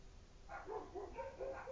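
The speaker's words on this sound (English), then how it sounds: "my dogs are going ballistic." Dogs at home bark and yip in a quick series of short, fairly faint calls, somewhat distant, with no talking over them.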